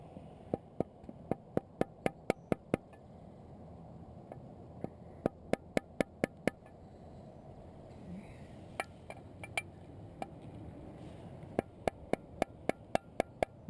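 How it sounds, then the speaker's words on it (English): Light hammer tapping a valve cover gasket into place on a 3.4 L V6 5VZ-FE Toyota engine: sharp, faint metallic taps in quick clusters with pauses, close up over a low background hum. "we're just going to tap this in place with this hammer"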